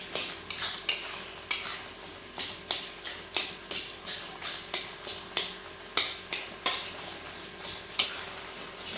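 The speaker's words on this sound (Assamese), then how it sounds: "হাতাৰে বন্ধাকবিখিনি ভালকৈ ভাঙি দিছোঁ" A ladle breaks up boiled cabbage in a pan before frying with mustard, making about twenty sharp metallic taps and scrapes in a steady, evenly spaced rhythm, close and clear.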